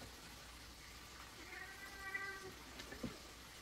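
A cat meows softly a few times around the middle of a short stretch in a quiet kitchen, faint and fairly close with low room noise, no talking.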